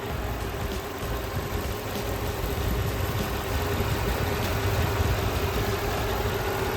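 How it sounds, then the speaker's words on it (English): A 2006 Mercedes-Benz E55 AMG (W211) with a supercharged M113K V8 idles with a low, even rumble and constant hum, holding unchanged throughout with no voices. "Here's what an M113K engine sounds like running."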